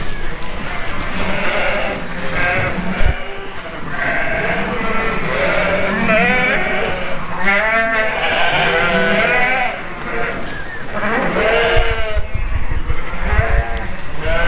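Texel cross sheep bleat repeatedly and loudly during shearing, overlapping calls from several animals over a constant mechanical background hum throughout.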